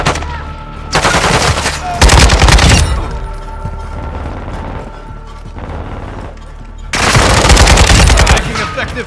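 Loud, close bursts of rapid machine gun fire in a Call of Duty Hardpoint match, several sustained volleys with brief lulls, mixed with explosions and game effects.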